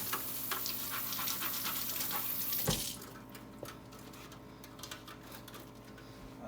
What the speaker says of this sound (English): So now what we do is we rinse our cheese grater.